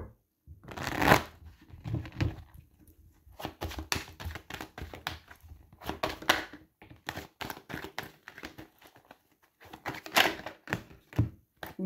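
Oracle card deck being shuffled by hand close up, a series of crisp riffling and tapping bursts with short pauses between them.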